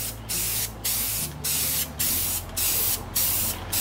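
A spray can lays a thick coat of paint onto a rough 8x10 canvas in seven close, even bursts of hissing spray, each about half a second long, separated by short pauses.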